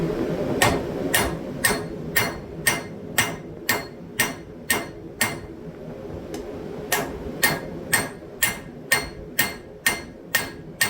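A hammer forges metal hummingbird wings, drawing out a taper with sharp, ringing blows struck in a steady, evenly spaced rhythm. The strikes are close and clear, with one short pause in the middle.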